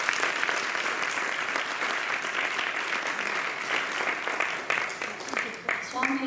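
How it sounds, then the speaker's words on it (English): A gathered audience at a 2018 Guru Purnima celebration claps after a musical offering, a continuous wash of applause with a voice faintly audible beneath it near the end. "Can we have a round of applause?"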